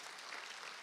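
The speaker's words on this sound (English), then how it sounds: "Yeah, you can clap for that because that's a great thing." A short burst of audience applause at a school board meeting, a dense, even patter of many hands clapping at moderate distance, with no talk over it.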